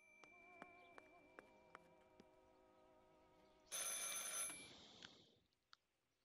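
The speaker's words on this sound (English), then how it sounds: "I should pick up the phone but remain silent." Telephone ringing in the game Martha is Dead, a faint series of evenly spaced bell rings, then a louder burst of noise and a final single click.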